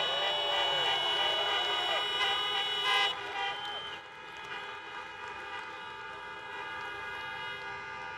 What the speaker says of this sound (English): Honk your horns if you've been vaccinated.